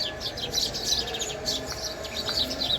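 Small birds chirp and twitter in quick bursts nearby in a rooftop garden, bright and continuous over a soft outdoor background hiss.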